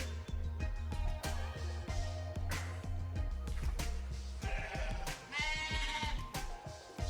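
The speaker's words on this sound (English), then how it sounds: "There's sheep everywhere" Sheep bleat repeatedly in a rural spot full of animals, several calls near and farther off, over low background rumble and a few faint knocks.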